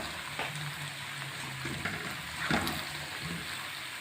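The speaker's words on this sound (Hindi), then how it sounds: "ये देखिए आलू फ्राई हो रहे हैं।" Potatoes fry in a pan for a capsicum and potato dish, giving a steady, fairly soft sizzle with a few light crackles and spoon touches.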